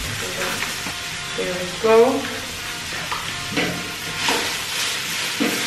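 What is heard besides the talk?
sautéing tomatoes and spices in a pan for dal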